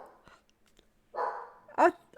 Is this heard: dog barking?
yes